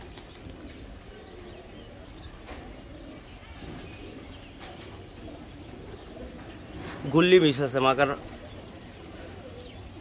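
Giribaz pigeons coo faintly in the background while someone talks, with a short burst of louder cooing near the end.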